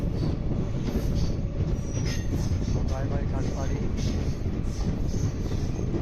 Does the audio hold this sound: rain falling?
no